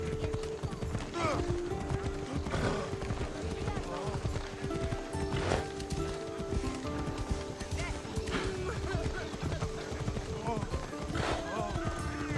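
Horse hooves clip-clop rapidly in a galloping rhythm in Assassin's Creed Odyssey, close and steady throughout, with an occasional whinny and spoken voices over the top.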